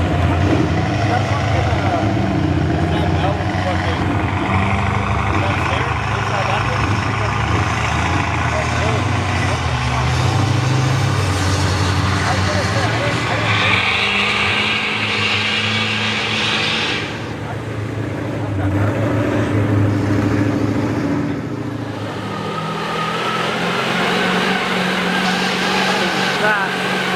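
A Chevy diesel-powered mega truck roars at a mud bog, a loud, sustained engine drone rising and falling over the full stretch, with people talking and crowd noise mixed in.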